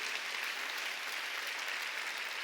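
Steady applause from a church congregation at a Wednesday worship service, dense and continuous throughout at a moderate, slightly distant level, with no voices over it.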